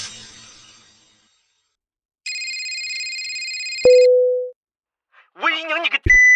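One loud electronic telephone ring runs for a couple of seconds, cuts off into a short tone, and is followed by a burst of speech and another tone.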